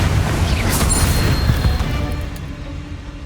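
Magical Confringo and Bombarda spells blasting spider egg sacs in Hogwarts Legacy: a loud, dense rumble of booming impacts with a bright crackle near the start, fading slightly toward the end, with no talking.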